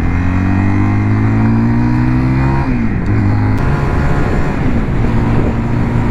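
A 2022 Zontes 350GK motorcycle accelerates while riding, its engine note climbing steadily before a brief break for a gear change, then pulling on again with a loud, steady drone close by.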